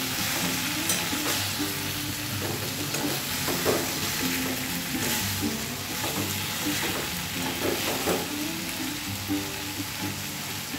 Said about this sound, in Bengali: ব্যাস একটু নেড়ে দিলাম